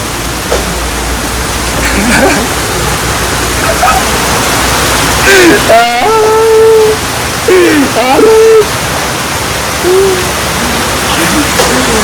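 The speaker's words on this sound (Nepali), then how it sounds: "यस्तो पानी परेछ" Steady heavy rain hisses loudly throughout, with a few brief tonal voice-like sounds rising over the downpour.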